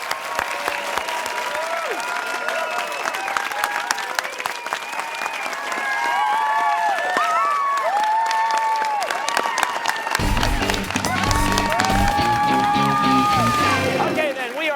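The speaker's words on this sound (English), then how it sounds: "Round of applause for both teams." Steady applause from a studio audience at a high school quiz show fills the whole stretch, with a burst of electronic tones and musical stings joining in toward the end.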